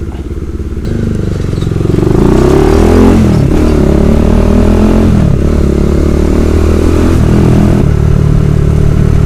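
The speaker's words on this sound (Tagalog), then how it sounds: "Engine braking" Bajaj Dominar 400 motorcycle engine braking on a road ride, a loud close engine drone whose pitch wavers and steps down repeatedly over several seconds, with no talking.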